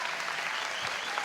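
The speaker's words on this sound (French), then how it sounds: "Gardez vos applaudissements." Studio audience at a French evening talk show breaks into loud, dense applause that fills the short moment without pause.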